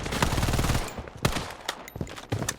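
Bursts of gunfire from a shooting video game, a dense rapid volley up front followed by scattered loud single shots, close and punchy with no talk.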